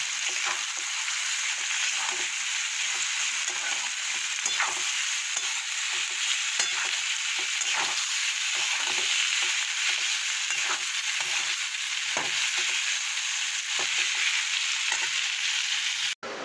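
Chow mein noodles stir-frying with vegetables in a pan, a steady bright sizzle running throughout with repeated spatula strokes and tosses, close and unbroken, no talking.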